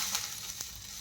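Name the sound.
water sprinkled on a hot oiled tawa, sizzling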